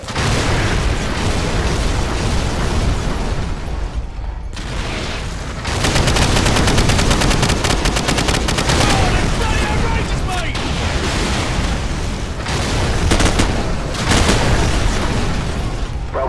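Airstrike explosions and gunfire in Call of Duty Modern Warfare, a loud continuous barrage of booming blasts and rattling shots that swells and dips without letup, with voices heard beneath the din.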